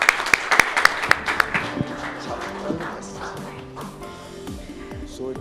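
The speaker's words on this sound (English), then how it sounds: "A big round of applause, everybody." A crowd claps at the Business Today awards ceremony, starting with sharp distinct claps that blur into sustained applause and then fade under low music and background murmur.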